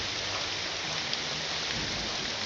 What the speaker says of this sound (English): This rain does spoil the mood somewhat, doesn't it?